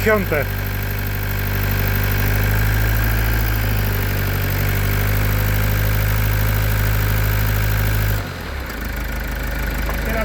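Car engine idling steadily up close while the alternator charges an inverter battery, a constant hum with a tonal whine, then a sudden drop in sound as the engine cuts off near the end.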